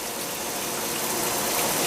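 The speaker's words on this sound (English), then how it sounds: "now we're flowing out of the shower head, and nothing is leaking" Water gushes steadily from a repaired Glacier Bay shower head, a loud, continuous broadband spray with no breaks and no voices.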